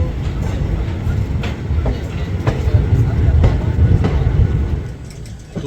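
Varanasi Mahamana Express (22417) train running on the line near Lucknow Charbagh, steady rumbling rail noise with periodic clicks of wheels over rail joints, continuous and close throughout.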